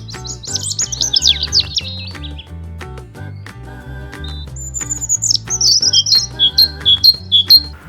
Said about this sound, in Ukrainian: Синиця тенькає.